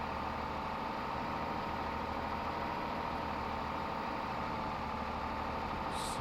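Steady drone of a truck engine in the Farming Simulator video game, a continuous low, even rumble that holds at the same loudness throughout with no talking.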